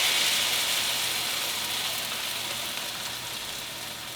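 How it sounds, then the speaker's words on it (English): Tomato sauce hits a hot pan and sizzles, a soft, steady hiss that fades slightly over a few seconds before a short knock at the very end. "it was definitely ready for the liquids because that was a little sizzle in there"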